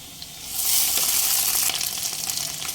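Onion, green chillies and ginger garlic paste hit a pan over a low gas flame for a fish curry; a soft hiss swells half a second in into a loud, steady, crackling sizzle that stays close with no talking.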